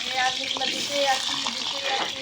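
Potatoes frying in a pan for khichuri, a soft continuous sizzle with faint stirring and clinks throughout, moderately close, no voices.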